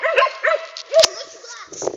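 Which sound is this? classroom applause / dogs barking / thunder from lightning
dogs barking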